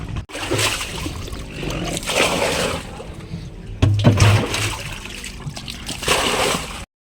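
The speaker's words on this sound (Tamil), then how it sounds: "அந்த தண்ணி எள்ளி தண்ணியை ஊற்ற வேண்டியது தான்" Water being scooped and poured out of a damaged fishing boat, with repeated splashes and trickles close by, loud and continuous with brief pauses between scoops.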